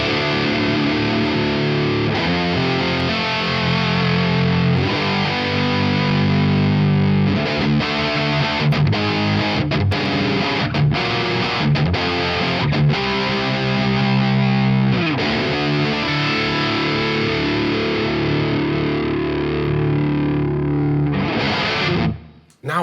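Heavily distorted electric guitar through a Marshall JCM 800 amplifier and speaker cab, thick and saturated with chugging palm-muted riffs and sustained chords, loud and continuous before cutting off at the end.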